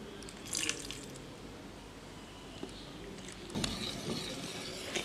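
Water is added bit by bit to cocoa pancake batter and stirred in a bowl, giving soft, wet squishing and sloshing sounds with scraping, near and continuous, plus a couple of louder stirring bursts.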